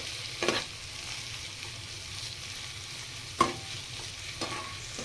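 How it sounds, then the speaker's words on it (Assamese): Ginger garlic paste frying with onions in a pan, a steady soft sizzle with a few clinks and scrapes of a spoon stirring. "আদা নহৰুখিনি মই অলপ দেৰি এনেকৈ পিঁয়াজৰ লগত ফ্ৰাই কৰি ল'ম"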